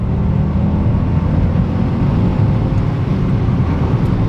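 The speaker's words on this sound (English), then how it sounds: "Ooh, I like this 1 litre turbo engine." A Kia Picanto GT Line S with a 1-litre turbo engine drives along, a steady low engine and road hum heard from inside the cabin, loud and continuous with no talk.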